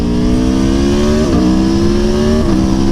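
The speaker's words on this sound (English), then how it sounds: "You can hear the exhaust on this bike." An Aprilia Tuono V4 1100 on its stock exhaust revs steadily and loudly up close, its engine note holding high with two brief dips as the throttle is blipped, with no talk over it.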